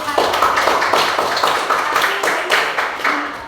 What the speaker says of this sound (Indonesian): Ya, tepuk tangan buat dayukan.